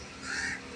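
A single short crow caw, harsh and fairly near, standing alone against a faint background.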